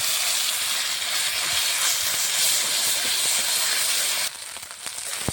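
Ground spice paste goes into hot oil tempered with dried red chilli and nigella seeds, giving a loud, steady sizzling hiss that abruptly drops to a softer crackle near the end.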